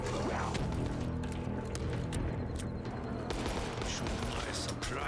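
Rapid gunfire from the starting weapon in a Call of Duty custom zombies game crackles in quick bursts over steady background game sounds, with speech present.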